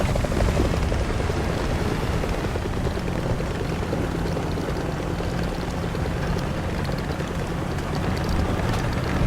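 Friendly Helmet helicopter in War Thunder, a steady close rotor drone with a thick low rumble that holds at an even loudness, with no talking.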